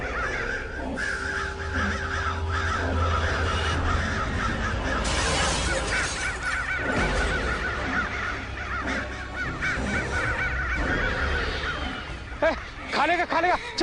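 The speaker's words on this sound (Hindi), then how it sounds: "इतना सारा कौवा उड़ रहा है, लेकिन एक भी कौवा खाना ही नहीं खा रहा" A large flock of crows flies overhead, cawing continuously and harshly over a loud, busy outdoor background with rumbling noise. The calls overlap constantly, and several sharp caws stand out near the end.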